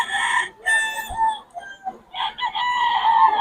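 Wet chickens in the rain cluck and a rooster crows close by, the calls coming in bursts with short gaps between them.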